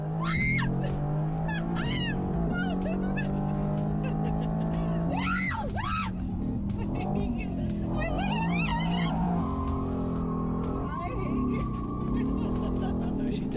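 A hotted-up Mercedes on a hot lap with Lewis Hamilton, engine note rising and falling through gear changes as a woman shrieks and exclaims loudly over it, close and excited.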